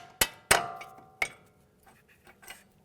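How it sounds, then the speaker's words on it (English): A hammer gently tapping a strut bolt while replacing the strut and spring assembly on a 2015-2019 Hyundai Sonata: three sharp metallic clanks that ring briefly, followed by a few fainter knocks, with no talk. "we're going to use a hammer and just gently tap that bolt"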